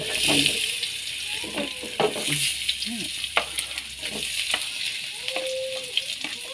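Potatoes fry with corned beef in a pan, a steady close sizzle broken by scraping stirs, with voices talking briefly over the cooking.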